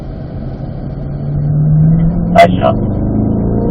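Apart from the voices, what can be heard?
Corvette accelerating on a race track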